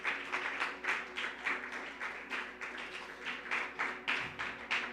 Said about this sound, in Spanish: Pues dale un aplauso a Dios